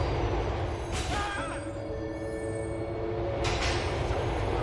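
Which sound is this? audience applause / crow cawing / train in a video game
train in a video game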